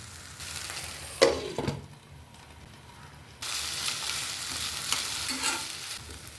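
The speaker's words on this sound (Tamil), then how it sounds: "இப்போ நம்ம இந்த எண்ணெயில் போட்டு வதக்கிக்கலாம். ஒரு 3 நிமிஷம் ஹை ஃப்ளேமில் வதக்கிக்கலாங்க." Okra sautéing in oil over a high flame, a steady broadband sizzle with intermittent scraping stirs, dipping quieter midway before the frying hiss swells back up loud and close.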